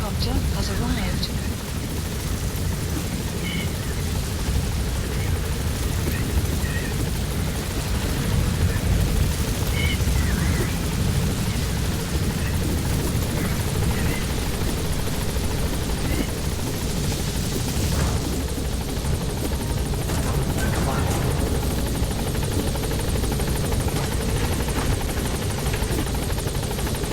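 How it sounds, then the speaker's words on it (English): A support helicopter in the video game Metal Gear Solid V hovers close by with a steady, loud rotor roar and engine whine that stays constant throughout. "Support helicopter has arrived."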